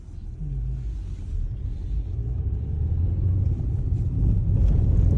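A car drives through city streets in Odesa with a low, continuous cabin rumble that grows slightly louder toward the end.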